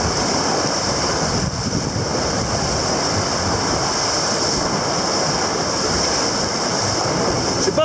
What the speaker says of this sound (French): Je sais pas si on se rend compte de la mer là, mais il y a facilement 2 mètres de houle là